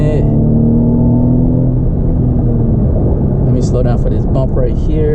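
A Mercedes-Benz C300 at full throttle gives a loud, close engine rumble that rises and then tails off after about two seconds, followed by knocks and rattles from the car.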